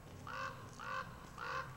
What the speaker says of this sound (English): there's a crow right there. He keeps crowing.